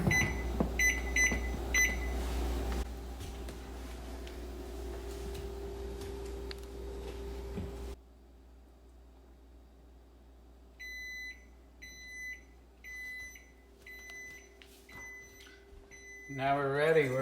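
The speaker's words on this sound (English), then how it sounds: "Now we're going to set our timer." A kitchen timer ticks quietly in a home kitchen while a peach is blanched, then gives several short, sharp beeps at regular intervals near the end.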